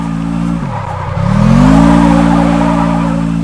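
A Honda Civic (FK8) drifting in the mobile game Car Parking, its engine dipping then revving back up in a loud sustained drone with skidding tire noise underneath, close and alone.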